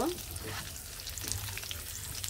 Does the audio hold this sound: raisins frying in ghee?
yes